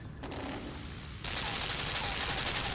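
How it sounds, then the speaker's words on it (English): Machine gun firing in the side-scrolling puzzle game Limbo, a dense continuous rattle that abruptly swells louder partway through and holds steady, with no talking. "you can see the indentation of where the machine gun is firing"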